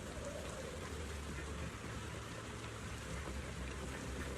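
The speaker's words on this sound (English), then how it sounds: "I also like you can hear the rain." Steady, dense rainfall fills a scene in the video game Starlight, an even wash of sound that stays constant throughout with no voices.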